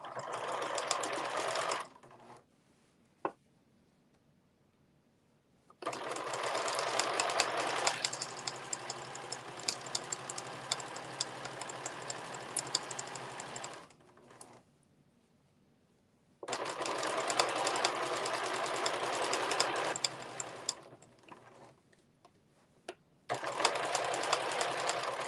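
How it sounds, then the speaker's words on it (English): Sewing machine stitching fabric for a dust cover, a steady fast mechanical whirr running in three long bursts separated by quiet pauses and a few clicks, close and clear with no talk. "We're going to start at the bottom and sew up to those pins."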